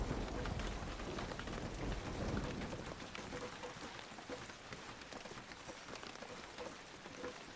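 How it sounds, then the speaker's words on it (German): Steady rainfall in the game Medieval Kingdom Wars hisses softly and evenly, a faint continuous patter with occasional louder drops, heard without any voices. "Es regnet, es regnet."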